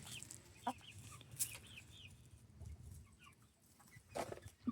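Backyard chickens cluck in short bursts at a farm, with some louder calls standing out over a steady low background murmur.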